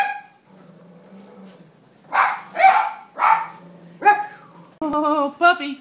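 Cavalier King Charles Spaniel puppies at an outdoor breed gathering, a run of several close high yips and barks in quick bursts, with a voice talking alongside.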